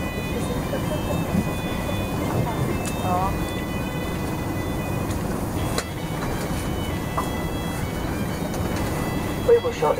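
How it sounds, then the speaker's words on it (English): A train rumbles steadily along the old Liverpool-Manchester Railway toward Newton-le-Willows at close range, a continuous low roar with faint squeals and occasional clanks throughout. "the train is going through to Newton Lee Willows, down the old Liverpool-Manchester Railway"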